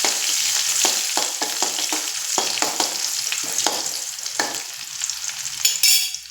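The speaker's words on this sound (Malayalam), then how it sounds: "ഇത് കടുകും മുളകും ഒക്കെ നല്ലവണ്ണം പൊട്ടി ഇഞ്ചിയും പച്ചമുളകും കൂടെ ഒന്ന് ജസ്റ്റ് ഒന്ന് വറുത്തെടുക്കട്ടെ." Mustard seeds, chili, ginger and green chili fry in oil in a pan, giving a steady loud sizzle with crackling pops and occasional stirring scrapes, close and with no talking.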